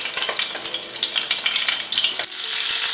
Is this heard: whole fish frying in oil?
yes